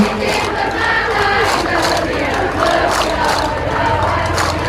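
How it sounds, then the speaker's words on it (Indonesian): A large crowd at an anniversary celebration for Toba Regency cheers and shouts loudly after a mass school dance performance of Tari Tumba, a dense, sustained roar of voices and clapping. "Ya, tepuk tangannya untuk kita semua"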